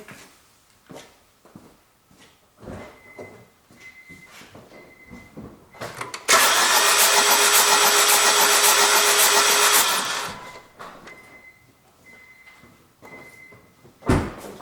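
A car engine cranks and catches during an ignition coil test, roaring loudly and steadily for several seconds before cutting back, with clicks and short beeps before and after.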